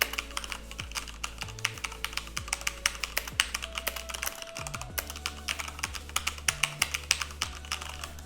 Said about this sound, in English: Let's go ahead and do a volume test and see what this sounds like.